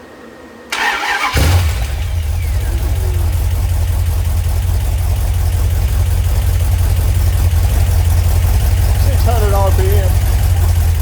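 A Mopar 318 V8 fires up after its first start, cranking briefly before settling into a loud, steady idle with a strong low rumble that runs through the rest of the clip, close to the microphone.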